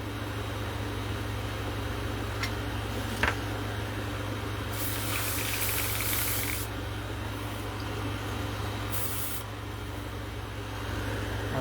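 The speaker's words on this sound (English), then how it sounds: "I do not want to spray a lot of purple on there and fuck it up." Two hissing bursts of purple paint sprayed onto a latex mask, the first lasting about two seconds and the second shorter, over a constant low hum.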